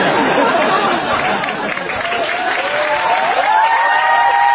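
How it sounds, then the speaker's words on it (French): A comedy show audience breaks into loud, dense applause mixed with crowd chatter, steady for several seconds with a short dip midway and a faint tonal line underneath. "Applaudissez, applaudissez."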